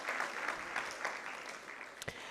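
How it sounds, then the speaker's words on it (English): Audience applause at a high school debate competition, a soft, steady patter of scattered clapping with a couple of sharper claps near the end. "A round of applause, please, for Jamhuri High School."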